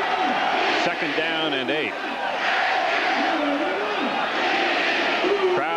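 Football stadium crowd at a 1987 Tennessee vs Vanderbilt college game roaring steadily throughout, a dense sustained wash of cheering with a play-by-play announcer talking over it.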